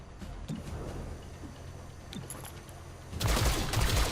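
Gunfire aimed at an enemy in the XCOM: Chimera Squad video game: a quiet stretch of low ambience, then a loud burst of several rapid shots with heavy low thumps near the end.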